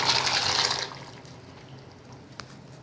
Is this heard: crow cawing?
no